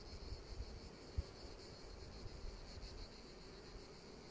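Bees in a hive with drones present hum in a faint, steady buzz with a sustained high whine, heard close and alone with no voices.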